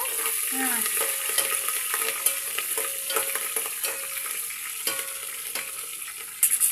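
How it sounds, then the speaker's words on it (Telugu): Green chillies fry in hot oil for a vegetable pulao, a steady close crackling sizzle with scattered pops and clicks from stirring, and a brief knock near the end. "పచ్చిమిరకాయలు కొంచెం వేగాలి."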